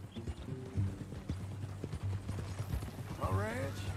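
Horse hooves clip-clop at a walking pace in Red Dead Redemption 2, close and steady, with a horse's whinny near the end and voices talking over it.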